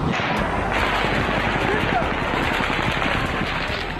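AR rifle gunfire at an outdoor concert shooting crackles in rapid, sustained automatic bursts, loud and continuous, mixed with crowd noise and voices.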